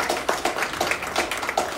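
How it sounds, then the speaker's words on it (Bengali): Hand clapping for the cinematographer Pradip at a film teaser launch event, a fairly steady rhythm of distinct claps from a small group, moderately close, with no voices over it. "সো আমার মনে হয় ওর জন্য একটা জোরে হাততালি হয়ে যায়"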